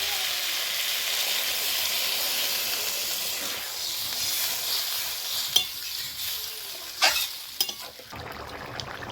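Vegetables fried with spices for a fish curry gravy hiss and sizzle steadily in a pan, with stirring scrapes and a few sharp spatters as water goes in near the end.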